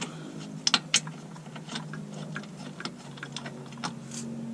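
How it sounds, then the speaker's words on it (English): Bolt being worked loose from the torque strut mount of a 2004-2009 Kia Spectra: sparse, sharp metallic clicks and ticks of a hand tool, close by, with a few louder snaps early on and no talking. "Take that bolt out."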